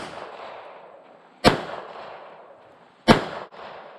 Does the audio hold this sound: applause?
no